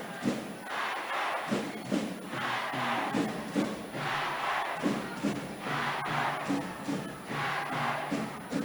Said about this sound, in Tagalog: Mga kaibigan, nag-iingay na ang crowd ng Shepherdville Rams.